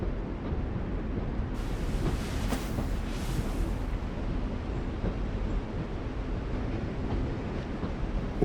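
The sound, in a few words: train ambience in The Walking Dead video game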